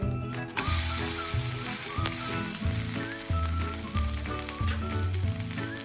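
Atta chilla batter frying in oil in a pan makes a steady bright sizzle, with a repeating low tonal hum and soft kitchen clicks underneath, close and without talk.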